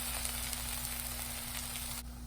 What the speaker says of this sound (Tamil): இதை நல்லா கிளறி விட்டுட்டு கொஞ்சம் பச்சை வாசனை போகிற அளவுக்கு நம்ம வந்து வதக்கி விட்டுடலாம்.